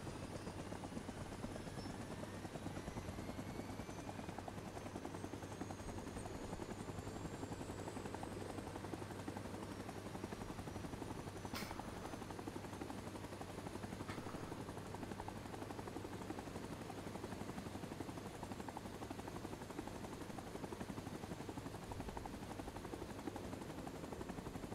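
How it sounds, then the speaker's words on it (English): Attack helicopters in the Vietnam War shooter game Rising Storm 2: Vietnam drone with a steady rotor roar through the whole stretch, loud and continuous, with faint distant gunfire cracks mixed in and no talk. "Where's our attack helicopters? They're coming."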